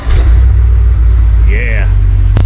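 A 1972 Chevrolet Impala V8 cranking and catching, a loud close rumble that grows into a running idle, with a voice speaking briefly over the engine.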